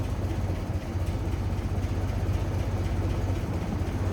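A 1923 Buick Model 34 Roadster with its original engine idling, a steady low rumbling purr heard up close and evenly throughout, with no voices.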